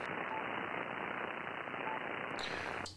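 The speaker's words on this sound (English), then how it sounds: "And it creates this heavy noise floor." Dense, steady ham radio static fills the receiver as a heavy, hissing noise floor, loud and unbroken before it cuts off abruptly near the end.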